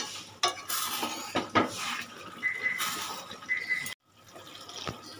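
Rohu fish curry being stirred in a pan, with close scraping and clinking of a utensil against the metal pan and soft sizzling, in irregular strokes over a few seconds, then a brief pause.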